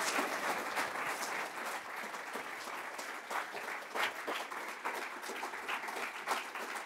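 An auditorium audience applauds warmly for Professor Inez Fung at a university faculty research lecture, steady dense clapping that holds evenly throughout.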